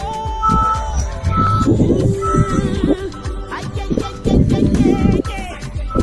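A truck's reversing alarm beeps repeatedly while entering an estate in Lekki, mixed into loud, busy street noise with engine rumble and clatter throughout.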